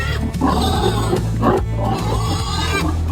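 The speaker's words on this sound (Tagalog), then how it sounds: "patimbang ulit tayo ng ating mga baboy" Pigs on a farm grunting and oinking while being weighed, a close, continuous chorus of low snorts and squeals with a steady low hum beneath, no talking.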